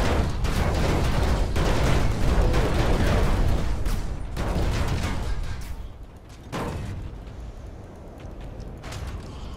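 An enemy tower turret fires in the Planetside 2 video game, bursts of rapid gunfire pounding loudly and densely at first, then thinning into separate blasts with brief gaps before resuming, no voices.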